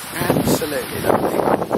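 Wind blows outdoors on a ridge in Barbados, a loud, gusty rush buffeting the microphone, with a voice faintly present.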